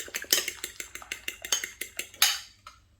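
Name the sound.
beating an egg with a light dusting of salt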